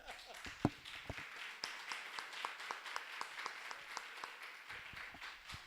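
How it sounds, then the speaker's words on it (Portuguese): A church congregation claps together in a sustained round of applause, a dense patter of hand claps at moderate distance that carries on without pause. "Nós temos que aplaudir o Senhor, porque ele é bom, né?"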